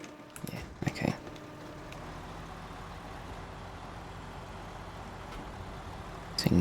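A truck grinds through snow in the off-road driving game SnowRunner, its steady low engine drone running unbroken throughout, with a few short louder bursts near the start and end.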